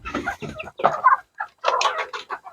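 Chickens clucking nearby in short, broken bursts with brief pauses between calls, fairly loud and clear with no talking.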